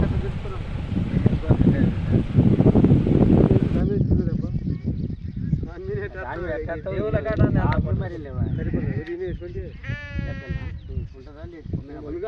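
Several sheep bleat repeatedly during a Yadav community's Ekadashi festival rituals held for the flock's good health, the calls rising over a dense, noisy crowd with music and people talking throughout.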